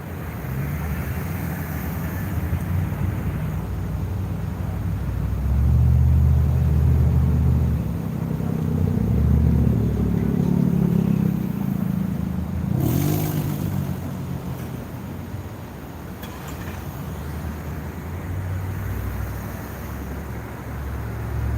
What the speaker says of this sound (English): the traffic is backed up all the way down due to this lane merge here